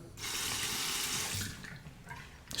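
A hot water tap running into a sink as a Merkur 23 stainless steel safety razor is soaked and rinsed, a steady close hiss of water lasting over a second before it tapers off into faint drips.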